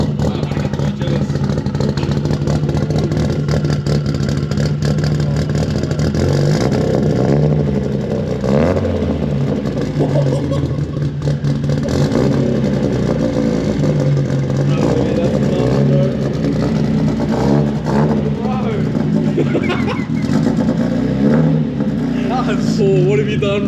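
A Nissan S15's engine revs hard and loud through a modified exhaust with a deep rumble, sustained throughout, while voices talk excitedly over it.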